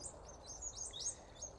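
New Holland honeyeaters call in an autumn garden, a few quick high chirps and short whistled notes, faint and fairly distant over quiet background.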